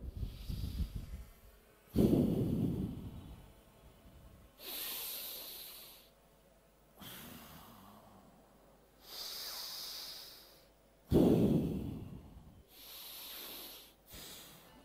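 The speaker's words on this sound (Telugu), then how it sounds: "కుడి ముక్కుతో పీల్చండి." During a yoga session, alternate-nostril breathing produces slow, airy nasal inhales and exhales. Several long hissing breaths come one after another, close and fairly loud, with short quiet pauses between them.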